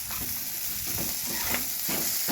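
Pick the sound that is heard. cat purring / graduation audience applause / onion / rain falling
onion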